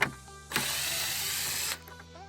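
A power screwdriver backs screws out of a rear side marker lamp on a Buick Enclave: a close, steady whirring buzz lasting just over a second, with small clicks before and after.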